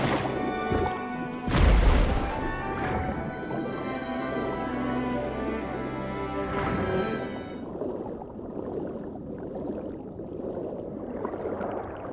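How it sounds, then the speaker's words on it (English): A heavy boom from an explosion in Genshin Impact bursts out early near water, followed by lingering crashing rumble and tonal game ambience that fades to a quieter bed of water sounds. "They were probably awakened by the explosion just now."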